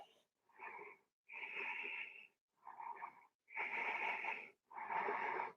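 Steady breathing while holding a standing yoga pose in a vinyasa flow, six distinct breaths alternating between in and out, airy and slightly wheezy, close and alone against silence.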